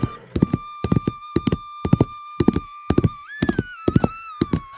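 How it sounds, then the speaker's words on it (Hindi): A horse approaches with steady clip-clop hoofbeats in a regular rhythm, each strike clear and fairly close, while a sustained tonal whinny-like call rises and bends over the hooves without any talk. "तभी ठाकुर प्रताप सिंह घोड़े पर सवार होकर वहां आता है"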